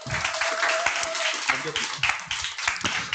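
An audience at a group meeting applauds to welcome a group leader, a steady patter of many hands clapping with voices and cheering mixed underneath.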